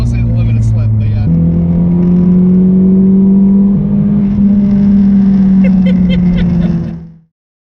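A 2019 Honda Civic Type R FK8 drives hard, its engine droning in a loud, steady hum that rises after a gear change and holds before cutting off abruptly, with faint voices underneath.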